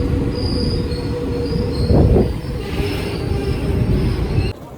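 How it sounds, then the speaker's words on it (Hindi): The Gurumukhi Superfast Express pulls into Kiul Junction in Bihar. Its loud, close rumble of rolling wheels carries thin high squeals and a brief metallic screech midway, continuing steadily until an abrupt cut. "जंक्शन पर अराइविंग करती हुई गुरुमुखी सुपरफास्ट।"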